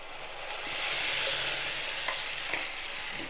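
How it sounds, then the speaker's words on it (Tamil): Ground toor dal chutney hits half-sautéed onions in a hot pan, sizzling loudly with a steady hiss that swells and holds, with a few soft stirring clicks. "இப்போ இதில் நம்ம அரைச்ச சட்னியை ஊற்றிடலாம்."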